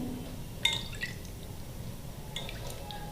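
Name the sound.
sour chutney being poured over crispy ladoo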